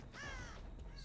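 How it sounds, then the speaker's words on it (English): A crow caws in the video game Dead by Daylight, one drawn-out harsh call heard clearly and alone. "I think that crow may have come back."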